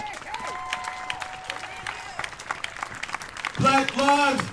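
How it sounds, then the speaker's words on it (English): At a Juneteenth reparations rally in Minnesota, a crowd breaks into scattered clapping over a murmur of voices. Loud shouting voices rise near the end. "Give yourselves a hand clap."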